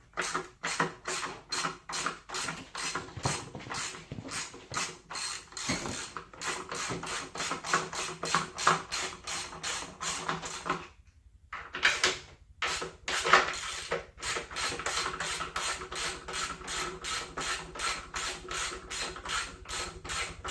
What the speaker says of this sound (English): take a 10mm socket. Take off all of these right here so you can take the intake off.